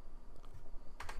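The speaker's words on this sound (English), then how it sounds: "I'm doing that with one hand, so sorry if I was slow there typing." Computer keyboard typing, done one-handed while setting up a Windows 7 installation in VirtualBox; faint scattered key clicks that turn into a quicker burst of taps near the end, with no talking.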